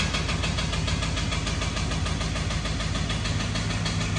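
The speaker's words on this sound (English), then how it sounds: "It is a loud tick" A Copart salvage pickup truck idles up close, its engine carrying a loud, rapid, even ticking from a suspected lifter or timing chain, steady throughout with no voices.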